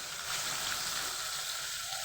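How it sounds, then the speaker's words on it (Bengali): Pieces of rui fish frying in hot oil in a wok, a steady, dense sizzle that holds evenly close by with no talk over it. "এবার একটু ভেজে নেবো আমি"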